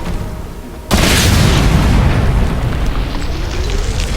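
A grenade explosion in a team shooter game, a sudden loud blast followed by a long rumbling roar that fills the rest of the clip.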